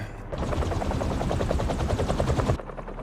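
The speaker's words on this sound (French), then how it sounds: "Des pales d'hélicoptère, c'est ça." Rapid rhythmic thumping of helicopter blades in Marvel's Spider-Man 2 chops loudly and steadily for a few seconds, then cuts off abruptly.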